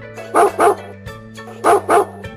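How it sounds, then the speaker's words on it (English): A dog barks in two pairs of loud, close woofs separated by a short pause, set against a steady musical backing with no speech. "D is for dog."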